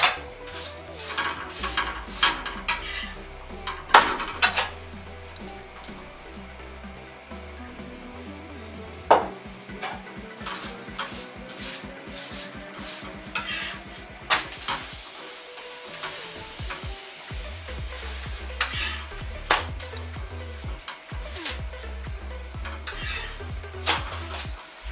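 An aloo paratha frying in oil on a pan, sizzling steadily while a utensil scrapes and taps against the pan in irregular bursts, close and fairly loud.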